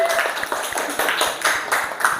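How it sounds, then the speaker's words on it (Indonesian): A classroom breaks into applause after a student presentation, a steady run of rhythmic hand claps from a group, fairly loud and close, lasting throughout. "Oke, berikan tepuk tangan."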